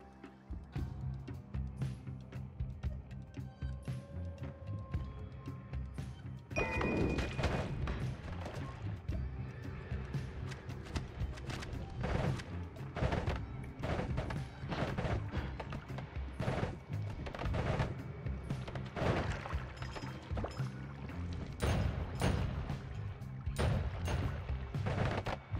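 Rapid bursts of magical projectile fire from the personal tentacler wand in the Noita video game, a dense crackling barrage that starts partway in and keeps going loudly over a steady game backdrop.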